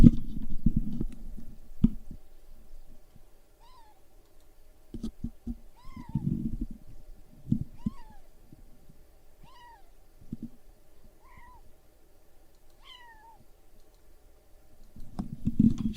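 A kitten meows repeatedly outdoors, about six thin, fairly faint cries spaced a couple of seconds apart, with occasional rustling and thumping noises between them.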